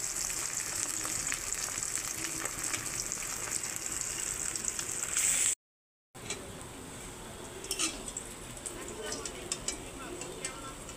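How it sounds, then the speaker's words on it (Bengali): Pieces of rohu fish fry in a pan with a dense, steady sizzle that runs unbroken apart from one brief gap. A few clicks and pan taps sit over the frying. "এখন রুই মাছগুলো আমি ভেজে নিচ্ছি"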